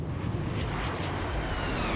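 A Boeing 777-200ER makes a slow simulated flyby in X-Plane 12, heard as a steady, broad jet roar that holds evenly throughout without voices.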